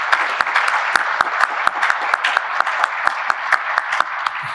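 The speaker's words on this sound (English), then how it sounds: "Let's give them a round of applause," A small audience at a rail transportation legislative meeting claps for the meeting planners: scattered, individual hand claps with a steady, moderately loud patter for several seconds.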